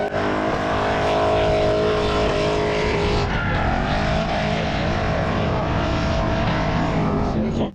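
A drift car at a drift competition drives back in, its engine loud and close with a steady roar and a shift in pitch partway through, then cutting off abruptly at the end.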